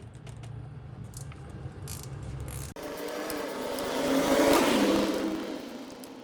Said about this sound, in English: All right, so 9/16 wrench.